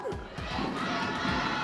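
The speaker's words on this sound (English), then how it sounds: "Can you cheer" Crowd at a live Mobile Legends MPL Philippines esports event cheers for the winning team, a dense, sustained roar of many voices with shouts, loud and continuous throughout.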